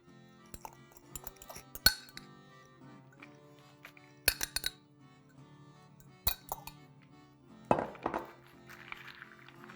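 Clinks and dull knocks of a utensil against a dish as baked potatoes are mixed with feta cheese, scattered sharp taps at uneven intervals over a quiet kitchen background.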